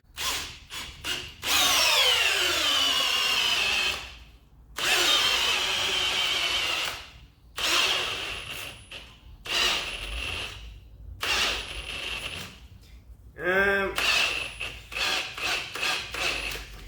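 An Ozito 18V brushless hammer drill drives a 200 mm batten screw into timber in long whirring bursts that strain and slow as the screw bites, separated by pauses, with a brief squealing stop near the end.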